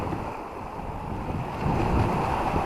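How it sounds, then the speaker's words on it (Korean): Sea waves washing against a wet rocky shore on a cold late-February fishing outing, a continuous rough rush mixed with wind buffeting the microphone, swelling slightly toward the end. "파도가 많이 쳤는가 봅니다, 지금."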